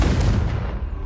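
A loud, deep fire-blast explosion from the Confringo spell in Hogwarts Legacy, a single heavy boom with a rumbling tail that fades over about a second.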